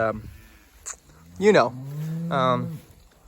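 Cattle in a pasture paddock lowing, with two long, loud moos after a few fainter short calls, close by.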